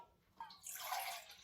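One cup of water poured into a bowl of strawberry cake batter, a faint, brief splashing trickle that starts softly and then builds into a steady pour close by.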